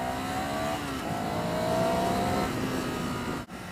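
A Ducati Scrambler Sixty2 400cc motorcycle pulls away, its engine droning steadily and rising in pitch as it accelerates, loud and close throughout with a brief dip near the end.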